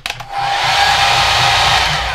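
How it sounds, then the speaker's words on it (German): Hair dryer running in an old abandoned bowling hall, clicking on and settling into a loud, steady whirring blow that continues without pause. "Föhn geht."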